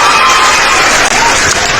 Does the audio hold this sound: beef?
no